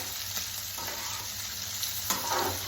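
Onions frying in a pan for pasta give a soft, steady sizzle up close, with a few scraping stirs of a spoon running through it.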